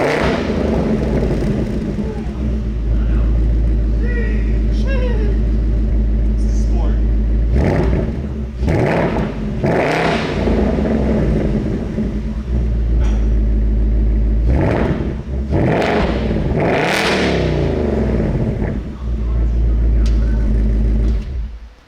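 A new Ford Mustang Dark Horse engine rumbles steadily, with several short revving bursts to about 2,000 RPM rising and falling throughout, loud and close.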